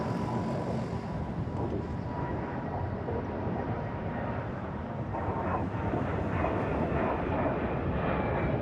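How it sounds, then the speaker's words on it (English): A fixed-wing airliner takes off at Frankfurt Airport, a loud, steady jet engine roar that fills the whole stretch and stays broad and constant, with a slight rise in tone toward the end. "Oh, we have takeoff also from this side."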